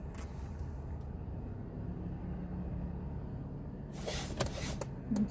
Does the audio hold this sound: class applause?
no